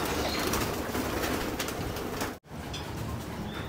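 Racing pigeons in a loft before release, a dense steady bed of cooing and fluttering close by, briefly cut off by a short gap before resuming.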